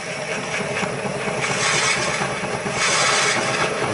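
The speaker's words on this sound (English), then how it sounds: "So on a slow speed, I'm going to start drilling this blank" A Forstner bit bores into a wood blank turning slowly on a lathe, giving a steady broadband grinding rub that holds close and loud without a break and swells slightly toward the end, with no voices.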